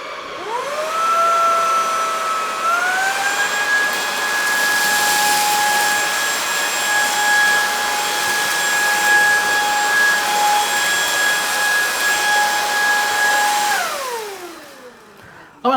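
Lacidoll cordless wet and dry vacuum cleaner spins up and runs at maximum suction on a floor with spilled cereal, a steady close whine for most of the clip before winding down, with no talk.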